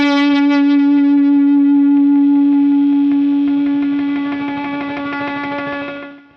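A single sustained guitar note runs through a vintage Yamaha SB-40 compressor with noise gate, loud and clean with rich overtones. It holds steady, then tapers and cuts off sharply near the end as the gate closes.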